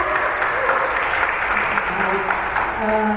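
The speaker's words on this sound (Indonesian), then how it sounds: "beri tepuk tangan dulu untuk Mbak Mareta" Workshop audience applauds a facilitator, a steady moderate clapping that runs the whole moment, with some voices murmuring underneath.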